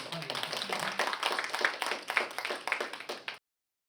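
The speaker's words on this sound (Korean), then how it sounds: "다시 한번 우리 윤종록 교수님 여러분 따뜻한 박수 좀 부탁드립니다" An audience at a lecture gives warm applause to welcome a professor, a brisk burst of many hands clapping at close range that cuts off abruptly after about three and a half seconds.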